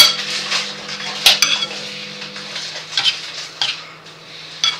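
A spoon clinks and scrapes as salad is stirred and mixed in a bowl, with irregular light taps and a soft background hiss.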